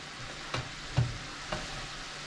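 Bagels toast dry in a pan with no oil, a faint, low hiss of heat broken by a few soft taps and bumps, close by and quiet.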